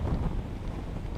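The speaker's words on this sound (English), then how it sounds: "it's getting windy. Listen to this. That's how windy it is." Wind buffets the microphone in low, rumbling gusts, loud and steady for a moment.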